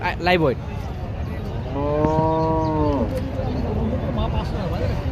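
At a cattle market for local bullocks near the northern Bengal border, a loud nearby moo rises and fades amid crowd chatter, with people talking throughout.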